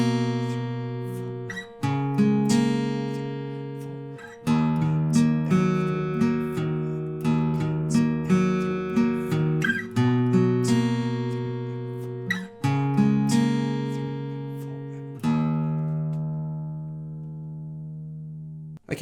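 Guitar plays the intro of a song, a sequence of picked chords and arpeggios ringing close and clear, finishing on a long ringing open low string that slowly fades, with no talk.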